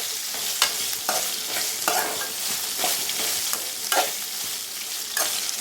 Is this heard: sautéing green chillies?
yes